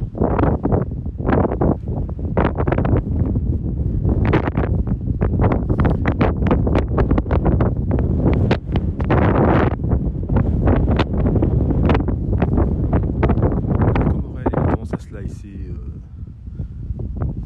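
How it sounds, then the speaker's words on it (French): Heavy wind buffets the microphone in loud, gusty bursts on a golf course, rumbling and crackling, with a voice speaking underneath it. "il y a un léger vent de face, je pense."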